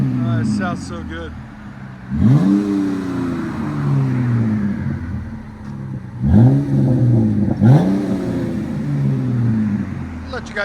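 A 2022 Ram 1500 Tradesman with a 3.6L V6 and a Flowmaster Super 44 exhaust, rear and resonator delete and a 5-inch black tip, idles deeply, then rises in three sharp revs that boom and fall back to a steady rumble.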